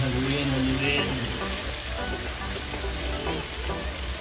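Chicken powder is stirred into a simmering Kapampangan-style sauce for quail, with a continuous close sizzle and bubbling and the faint scrape of a spoon moving through the pan.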